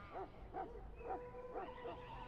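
A Mabari warhound in a video game barks in a quick series of about four loud, yelping woofs at an even rhythm over a steady low background hum.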